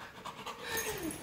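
A dog pants after a run at the park, quick rhythmic breaths close by, fairly loud and heard alone.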